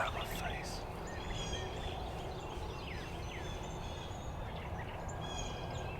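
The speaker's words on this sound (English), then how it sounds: "But I know for sure I heard a gobble." A wild turkey gobbles faintly in the distance in the North Carolina woods, a few brief rattling calls over a steady outdoor hum with other birds chirping.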